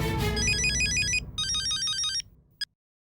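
A telephone rings with a bright electronic warbling tone in two long bursts, cut off by a short final chirp, over a low background murmur at the start.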